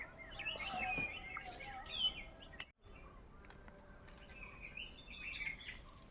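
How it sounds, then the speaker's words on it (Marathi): Birds sing among forest trees: scattered chirps, whistles and short calls, faint and somewhat distant, over a quiet background with no talking. "आजूबाजूला बघा पक्ष्यांचा अगदी मस्त येते हा खरा खरा आवाज म्हणजे इथे बाजूला सगळे पक्षी आहेत"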